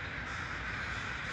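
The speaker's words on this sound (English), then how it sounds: "Thousands and thousands of wonderful crows" Thousands of crows gather at Still Creek in Burnaby, British Columbia, for their daily sunset murmuration, a dense, continuous din of overlapping caws filling the air without pause.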